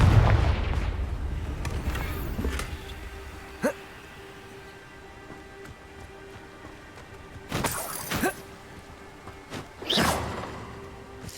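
Confringo fire-curse blasts in Hogwarts Legacy on Xbox Series X: three sharp explosive bursts, one short and two longer, go off in the foreground over a low ambient game hum.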